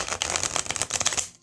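A tarot card deck with smooth, shuffleable cardstock is riffled and shuffled in a rapid run of crisp, papery flutters and snaps that carries on steadily and close-up, then stops abruptly at the end.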